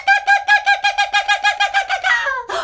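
Children's voices imitate a kookaburra call in a singing game, a rapid run of about twelve loud, evenly spaced hooting laughs that speeds up and breaks off into a trailing whoop near the end.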